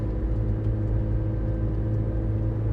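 A 2015 McLaren 650S Spider engine rumbles with a low, steady growl that holds close and loud with slight swells, heard alone without talk.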